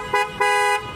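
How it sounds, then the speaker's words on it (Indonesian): A Denso waterproof car horn on a 2020 Toyota Rush TRD honks twice, a short blast followed by a longer one, loud and close. "klakson Denso yang anti air ya, bunyinya seperti ini."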